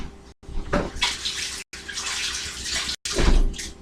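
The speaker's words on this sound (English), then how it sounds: "Wash up again." Running tap water splashes steadily while dishes are washed up under it, a close, continuous broadband rush broken by a few brief cuts and surging louder near the end.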